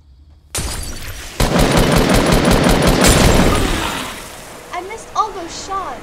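Rapid bursts of gunfire in a Fortnite match, a dense volley of close, loud shots that tail off into scattered cracks, with a few sharp game effects near the end.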